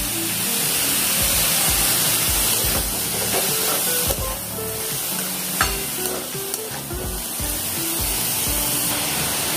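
Onions sizzling in hot oil in a pan for onion kachori, a loud, steady crackling fry with intermittent stirring scrapes and bursts of spatter.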